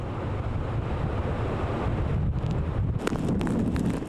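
Strong winter sea waves crashing near an island shore, a continuous loud roar of surf blended with heavy wind buffeting, with sharper splashes toward the end.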